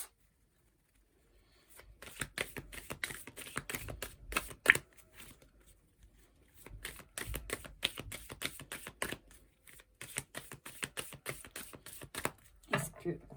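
Oracle cards are shuffled for a tarot reading in a rapid, crisp run of riffling flutters and taps. The shuffle sounds close, with short pauses between bursts.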